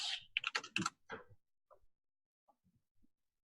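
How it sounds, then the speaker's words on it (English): Fast typing on a very loud computer keyboard: a dense burst of sharp clacks for about a second, then a few scattered, quieter keystrokes trailing off, close and isolated with no talk. "with my stupidly loud keyboard"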